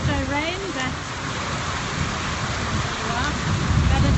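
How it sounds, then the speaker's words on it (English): Heavy downpour of rain during a drought, a steady, loud wash of falling water hissing across the whole clip, with a person's voice rising briefly over it near the start. "amazing downpour of rain"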